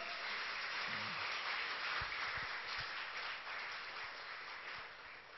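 A church congregation applauds steadily, a dense wash of clapping that holds for several seconds and then thins slightly toward the end, with no voices over it.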